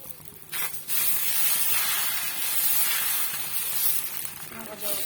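Dosa batter sizzling and frying on a hot griddle, a loud continuous crackling hiss that swells after a brief quieter start and holds steady, heard close.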